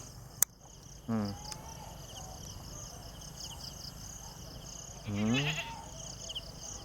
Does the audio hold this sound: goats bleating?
yes